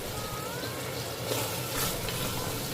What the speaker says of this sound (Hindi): अब इन टमाटर को भी अच्छी तरह से प्याज के साथ भून लेंगे।